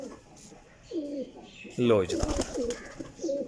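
Pigeons held by a bird dealer give several soft, low coos spread through a few seconds, with a voice speaking over and between them.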